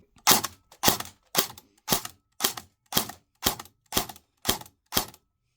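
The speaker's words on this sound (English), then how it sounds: "10 rounds on semi, and then I'll do a burst of full auto and see how the FPS consistency is." An Elite Force MP5K airsoft gun running on an 11.1 LiPo fires ten sharp, evenly spaced semi-auto shots about half a second apart, each a crisp close snap with a short decay.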